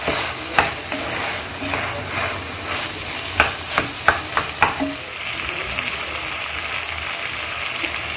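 Diced potatoes and minced meat sizzling steadily in a pan, with several sharp scraping and stirring knocks in the middle, then a continuous crackling fry.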